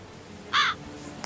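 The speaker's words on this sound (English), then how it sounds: "Evil crow." A single harsh crow caw in a video game, one loud close call lasting a moment against a quiet background, followed by a few faint clicks.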